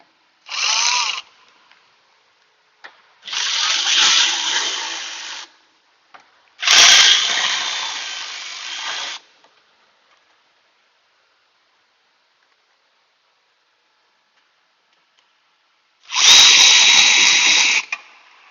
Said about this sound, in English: Let's just see if I can get some Milwaukee battery powered ratchet action going here.